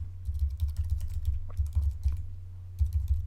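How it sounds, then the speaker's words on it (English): Rapid, uneven clatter of fingers typing on a computer keyboard, close and clear, in short bursts with brief pauses and no talking. "Somehow I can't talk and type at the same time."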